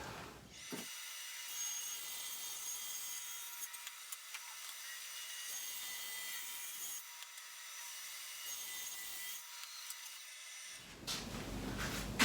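A saw cutting a quarter-inch dado into a wooden console panel, a continuous high, gritty whine that runs almost without a break for about eleven seconds before winding down.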